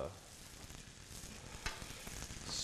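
Venison and sweet potato pancakes sizzle and crackle steadily in hot oil in a pan, a dense, close frying hiss that carries on without talk.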